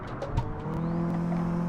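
A motorbike in a retro arcade driving video game passes by with a steady, buzzing synthesized engine drone, close and loud over continuous game engine noise.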